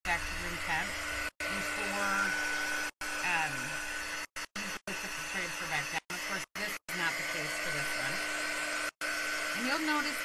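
A heat tool blows steadily to dry chalk paste on a craft project, a close, continuous airy whir broken by several brief cutoffs, with a voice talking over it.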